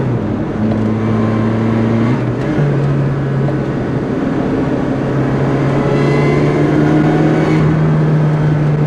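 A Lotus Exige S sports car drives at twilight, its engine droning steadily from the cabin with revs stepping up through shifts as it accelerates, loud and continuous with no talk.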